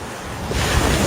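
Ocean waves wash onto a beach in a steady, full roar with wind buffeting the microphone, the surf swelling slightly louder partway through and continuing without pause.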